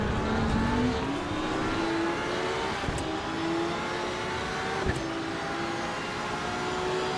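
Race cars including an Audi and a Porsche in the sim racing game Assetto Corsa EVO at Paul Ricard, a steady loud engine drone with rising and shifting revs and brief sharp clicks of gear changes, no talk.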